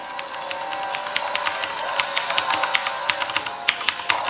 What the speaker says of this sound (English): So if you're doing a lot of keyboard mashing like this